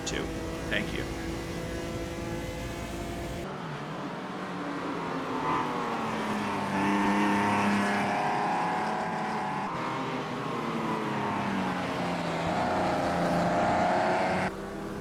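Race car engine in the Automobilista 2 sim racing game, a steady loud droning roar with rising and falling pitch as the car accelerates and shifts, sounding continuously for the whole stretch with a voice talking over it.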